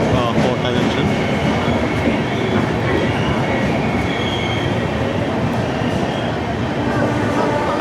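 The 12978 Ajmer–Ernakulam Marusagar Express, heard from an AC 2-tier coach, rolls into Kota Junction with a continuous heavy rumble of wheels on track and thin metallic squeals rising over it.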